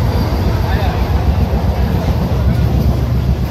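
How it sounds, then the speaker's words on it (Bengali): Rumbling low roar of a moving local train heard from inside the carriage, steady and loud, with people talking over it. "লোকাল ট্রেনে যাচ্ছি মোটামুটি"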